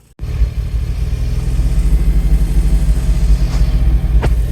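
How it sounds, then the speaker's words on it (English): A Suzuki Cara (Autozam AZ-1) engine starts and holds at raised revs under light throttle, a close, pulsing mid-pitched drone with a slight rhythmic surge, the car being checked for a phantom rev limiter. "I'm just keeping my foot on the throttle here just a little bit to keep this revving."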